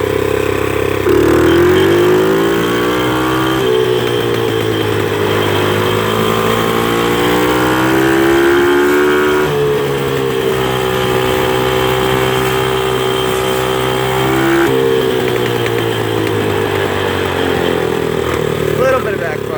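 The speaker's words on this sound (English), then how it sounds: "I'm just gonna mash the gas all the way since it's already warmed up" A rebuilt quad ATV engine runs at full throttle, a loud, close, sustained droning rev whose pitch rises and dips in waves for about twenty seconds.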